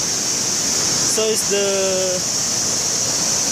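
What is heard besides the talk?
large waterfall in West Sumbawa after rain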